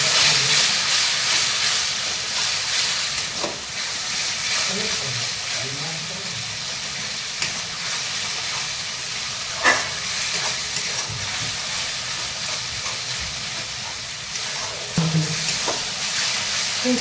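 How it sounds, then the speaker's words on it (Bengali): Spice masala sizzles and fries in a pan after a splash of water is added for red chicken, a continuous loud hiss with occasional stirring scrapes. "এরপর আমি একটু জল দিয়ে মশলাটা কষিয়ে নেব।"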